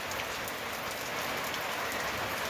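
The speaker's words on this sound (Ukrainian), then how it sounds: "нехай йде дощик" Steady rain falls on a village in the countryside, a dense, even hiss of drops pattering on surfaces close by, with no voices over it.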